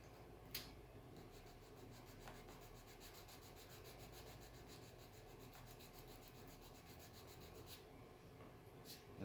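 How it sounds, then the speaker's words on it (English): Panel lines on a Sabre F-86 RC jet being sanded with 220-grit sandpaper tape: steady, quiet rasping strokes rubbing back and forth, close up, with a few sharper scrapes. "I'm using some 220 tape here, sandpaper."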